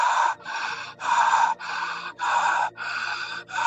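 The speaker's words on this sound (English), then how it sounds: "It's 4 short breaths that are continuous and circular." Close, loud, rapid breathing in a steady rhythm of short, continuous breaths for a 20-breath circular breathing technique, with each breath a sharp gasp-like rush of air and brief dips between them.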